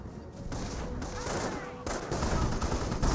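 Tank cannon and battlefield gunfire from a Company of Heroes match, a Panther firing at a Greyhound armored car amid dense overlapping shots and explosions, loud and continuous with a sharp blast near the two-second mark.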